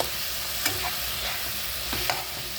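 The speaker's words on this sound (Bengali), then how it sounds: "লঙ্কার গুঁড়ো দিয়ে ভালো করে কষবো" Spices with chili powder sizzle as they are stir-fried for an egg curry with soft tomato in the pan. A steady, close frying hiss runs throughout, broken by a few light spoon scrapes and stirs.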